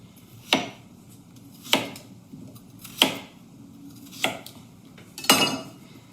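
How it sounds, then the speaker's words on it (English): Knife chopping washed skin-on potatoes into big chunks on a board for a pressure-cooked Sunday roast, five sharp separate cuts spaced about a second apart, close and clear over a low steady hum. "I'm just cutting them into big chunks"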